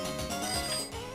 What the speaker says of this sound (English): And the phone is so loud.